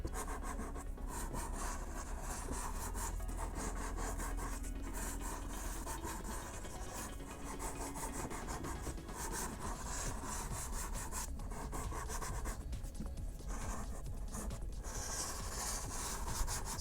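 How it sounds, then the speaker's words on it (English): Steady rasping strokes of sanding or filing against the edge of a Boba Fett jet pack part, flattening a curved surface; continuous close scraping friction throughout with no talk. "So right now I'm just flattening out any curve that's there."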